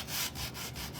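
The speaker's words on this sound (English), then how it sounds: "I'm just getting my gator sander, and I want to get these edges" Gator power sander working the edges of a chunky wooden manger tag, a steady close, loud abrasive rasp broken by a few brief dips over about a second.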